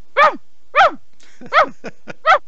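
A man imitates a dog with his voice, giving five short, loud barks in an uneven rhythm, close up and with no other talk.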